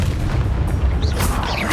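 A Bombarda spell blast in Hogwarts Legacy, a loud, dense booming rumble that fills the moment with no break, followed by a few faint higher crackles.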